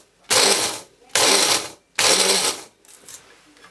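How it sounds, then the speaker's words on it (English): A small blender blitzes granulated sugar into caster sugar in three loud, grinding pulses of about a second each, separated by short pauses, with a fainter rattle trailing at the end. "I'm going to blitz it in my little blitzer"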